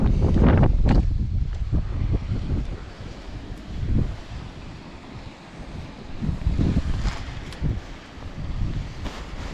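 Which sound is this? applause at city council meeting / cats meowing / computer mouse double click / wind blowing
wind blowing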